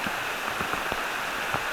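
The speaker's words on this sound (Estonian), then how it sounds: "Aga see on selline tugev vihm" Heavy rain falls in a dense, even hiss, with scattered drops pattering close by on nearby surfaces.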